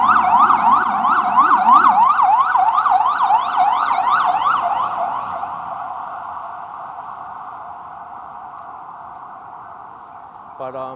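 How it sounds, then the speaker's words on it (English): An ambulance siren wails loudly along 23rd Street in Chelsea, Manhattan. Its rapid rising-and-falling sweeps dominate at first, then settle into a steadier tone that slowly fades into distant traffic while someone talks over it. "It's hard to talk over this ambulance"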